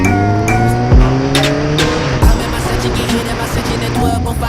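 A circa 2010–2011 Kawasaki Ninja ZX-10R races around Sepang circuit at speeds near 260 km/h, its loud engine wailing and dropping in pitch as it roars past twice.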